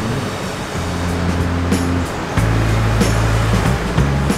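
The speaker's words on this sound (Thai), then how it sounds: "ก็เทน้ำให้ปริ่มๆครับ" Water poured into a large boiling kettle up to the brim at a home coffee slow bar: a close, steady splashing stream with a shifting, rising pitch as the vessel fills.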